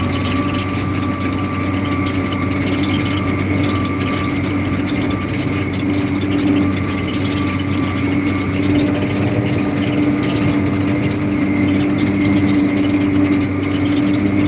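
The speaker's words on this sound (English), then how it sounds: "it's fun to drive such a big tractor" A large 9300 tractor's engine runs steadily while pulling a chisel plow through a field, a continuous low, droning hum with a constant level and no pauses, heard from inside or near the tractor.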